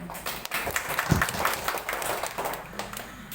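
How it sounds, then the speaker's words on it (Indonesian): An audience at the launch of a village learning center in Indonesia claps unevenly, a moderate spread of hands with a few louder thumps and some background movement. "Tepuk tangan semuanya."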